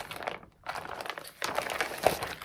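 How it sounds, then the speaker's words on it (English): Plastic packaging rustles and crinkles up close in two uneven stretches with a short pause between, fairly soft and alone. "sorry for the crinkling"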